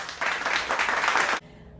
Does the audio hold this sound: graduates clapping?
yes